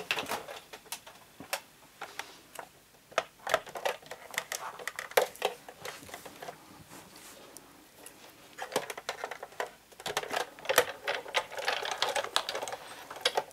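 A Big Shot die-cutting machine is cranked while dies are cut for a handmade pop-up card. Rapid, irregular clicking and ratcheting taps run close and throughout, in bursts, with no talk.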